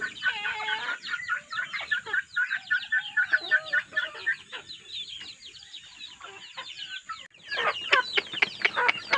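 Hungry Darag hens cluck and squawk close by in a busy, overlapping chorus that grows louder and more urgent toward the end.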